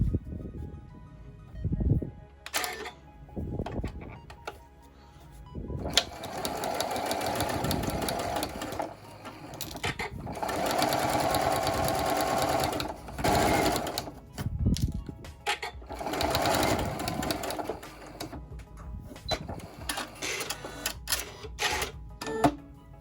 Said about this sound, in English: we're going to do another stitch 1/4 inch from the edge